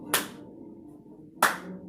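Two sharp hand claps, about a second and a quarter apart, in a quiet room, during cross-body toe-tap exercises.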